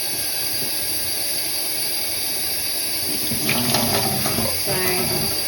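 Cold tap water runs steadily as dyed yarn is rinsed under it, a continuous close hiss with brief splashy variation partway through.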